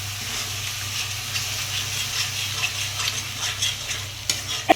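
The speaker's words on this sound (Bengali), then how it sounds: "এখন টমেটো পিউরিটা দিয়ে দিচ্ছে।" Tomato puree stirred into a hot frying pan for a papad vegetarian dish, giving a steady sizzle and hiss with soft scraping stir sounds throughout and a sharp clink near the end.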